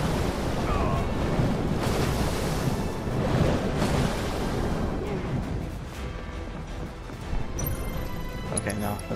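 Ocean surf washes and rolls in Final Fantasy VII Rebirth, loud waves with gusts of wind that thin out toward the end as a few game tones appear.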